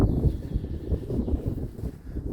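Gusty wind at Lake Seliger, Russia, buffets the microphone with low rumbling bursts, steady and close throughout.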